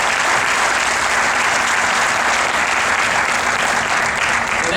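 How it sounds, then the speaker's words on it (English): Sustained, dense applause from a large audience at a NASCAR charity champions breakfast at New Hampshire Motor Speedway, steady and loud throughout with no break. "So a round of applause for those guys right"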